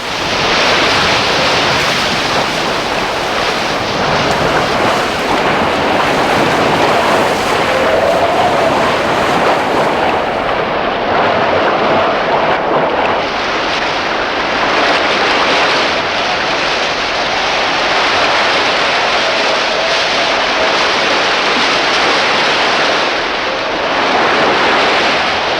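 Big ocean waves and strong wind roar around a racing sailboat in westerly storms at high southern latitudes during the 1977 Cape Horn round-the-world crewed race, a loud, continuous wash of noise that never lets up.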